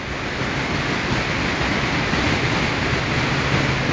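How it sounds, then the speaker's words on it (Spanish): The swollen Santa Bárbara river in Gualaceo, running bank to bank beneath an old wooden bridge, roars in a dense, unbroken rush of water, loud and steady with no voices over it. "Este es el río Gualaceo. Como podemos observar, está muy crecido de orilla"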